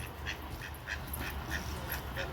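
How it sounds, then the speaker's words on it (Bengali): Village ducks in Teliamura quack in the evening, a steady run of short nasal calls repeating about every half second over a low rumble of outdoor background noise. "দেখেন গ্রামের হাঁস"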